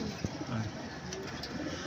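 Racing pigeons arriving at a loft during a race training release, with soft cooing close by over a steady background hum and occasional handling noise.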